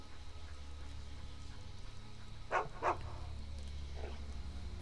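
A dog in Skyrim gives two quick barks followed by a fainter third, each short and moderately close, over a steady low ambient rumble of the game world.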